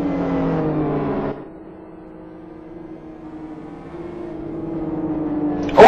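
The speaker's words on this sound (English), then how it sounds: "Safety car, Theodor Falkenberg drives it around once ag" A safety car circling a race track, its engine a loud steady drone that briefly drops away, then builds back up and ends with a sharp burst.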